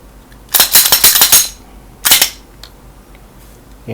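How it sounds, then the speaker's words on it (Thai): Rapid mechanical clicks and clacks as a Glock 17 Gen 4 9mm pistol is cleared, a burst of slide and action noises followed by a second shorter cluster, close and loud with no talking. "เดี๋ยวผมขออนุญาตเคลียร์ปืนนิดนึงก่อนนะค รับ"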